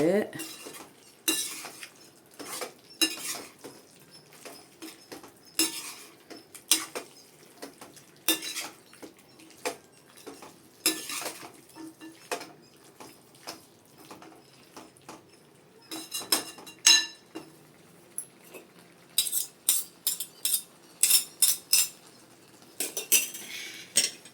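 Chicken gravy is stirred in a cooking pot, with repeated metal utensil scrapes and clinks against the pot in irregular bursts, faint and close, and a little light sizzling underneath.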